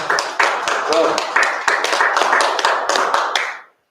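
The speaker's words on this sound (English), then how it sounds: "give him another round of applause" An open mic crowd gives a short round of applause, close and fairly loud with distinct individual claps and voices mixed in. It fades out quickly at the end.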